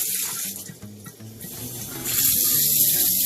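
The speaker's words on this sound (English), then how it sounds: "I just started the water" Tap water runs steadily and close for a Zeny washing machine, a continuous hiss and gush that grows louder partway through, with no talk.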